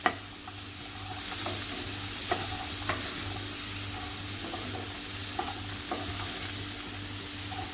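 Finely chopped French beans stir-fry in a pan, a steady hissing sizzle punctuated by light, evenly spaced spatula scrapes and taps, heard up close with nobody talking.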